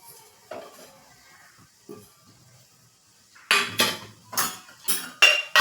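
Grated paneer being stirred into masala in a pan over a low gas flame, heard as a run of sharp utensil scrapes and clinks against the pan, building into about six loud strokes toward the end after quieter taps.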